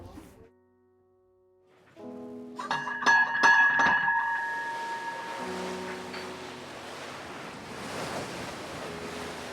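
Wind and waves wash over the St. Lawrence River in a steady broadband rush that builds after a quiet start, with a brief layered tonal hum sounding over it early on and no talk.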